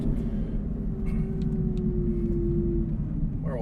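An Aston Martin V12 Vantage S with a manual gearbox drones in second gear from inside the cabin, a steady low engine rumble with a rising tone partway through.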